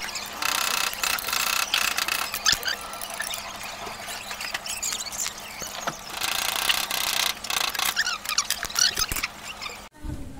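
A ratchet wrench loosens the 12mm exhaust elbow bolts on a Sigma 250 motorcycle, close and loud rapid clicking in repeated bursts with metallic squeaks and brief pauses between strokes.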